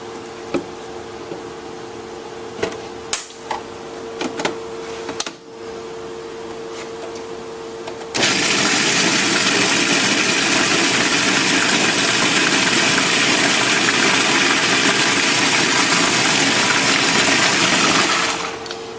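A food processor chopping pesto runs loud and steady as a continuous broadband whir for about ten seconds, after quieter knocks and clatter while the lid is handled and the mixture is scraped down.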